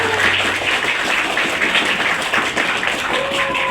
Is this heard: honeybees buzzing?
no